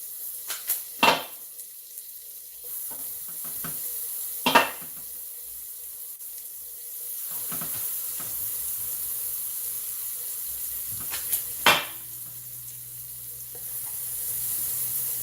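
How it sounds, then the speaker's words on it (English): Meatballs frying in a pan for Swedish meatballs, a steady low sizzle running throughout with a few sharp clattering knocks of utensil against pan scattered across it. "So we're going to cook the meatballs first and then drain them."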